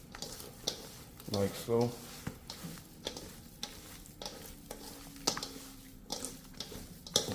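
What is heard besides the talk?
stirring sizzling beef tips in a pan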